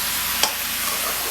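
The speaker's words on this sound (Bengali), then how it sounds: "এখন এটা আমি মিক্স করে ফেলবো।" Fried bottle gourd greens stirred in a hot pan, with a steady sizzle and one brief scrape of the spatula against the pan, close and continuous, no talking.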